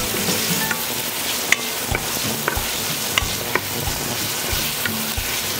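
Zarandaja (lablab beans) frying and being stirred and turned in a pan for Piura-style atamalado, with a steady sizzle and several sharp scraping clicks of the utensil against the pan.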